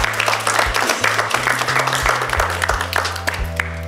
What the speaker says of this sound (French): c'est très bien, on va applaudir Alia.